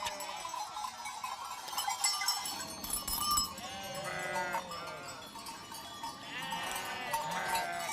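A flock of sheep on an alpine pasture near Flühli, Lucerne, bleats in overlapping calls across a continuous, dense backdrop with a faint bell-like tinkling.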